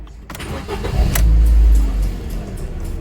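A Ford Focus with a red immobiliser light and instrument cluster fault cranks and its engine starts, a loud low rumble swelling after a short click and then settling into a steady idle.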